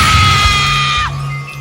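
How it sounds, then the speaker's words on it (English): A woman's high, sustained scream rings out loud and close for about a second, then breaks off abruptly, leaving a faint tonal hum, a stock shriek in a ghost story about a man jolted awake in a rented house at night. "Suddenly, he wakes up by a scream of a woman."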